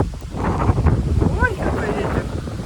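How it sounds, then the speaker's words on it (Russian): Strong gusts of wind buffet the microphone outdoors on a clear, sunny, cold day, a steady low rumbling roar that surges and dips, with someone speaking over it. "Ой, какой ветер."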